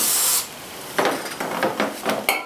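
Cleaner is sprayed onto gasket material on a Honda Rebel 250 stator cover: a long hiss up close, then a series of short rhythmic spray bursts.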